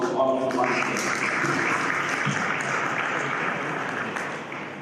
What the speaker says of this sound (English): a big round of applause to all of you once again.